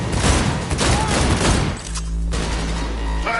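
Rapid gunfire bursts from the video game Cyberpunk 2077, loud, dense and continuous, with a booming low tail as the shooting stops.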